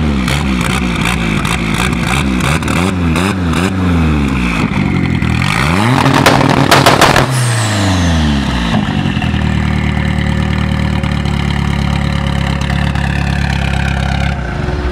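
A loud car revs hard and roars past up close at a car meet in Serra Azul, Itupeva, with rising and falling engine tones peaking midway, then settling into a steady idle rumble.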